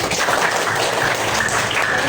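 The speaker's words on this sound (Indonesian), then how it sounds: "Ya, tepat sekali tepuk tangan." Dense, steady clapping from a group of students in a classroom, filling the whole moment at even loudness with no voices over it.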